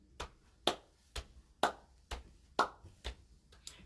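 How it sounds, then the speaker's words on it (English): A run of sharp, evenly spaced hand claps, about eight in under four seconds, close and fairly quiet in a storytime session, with no voices over them. "Got your clapping hands ready?"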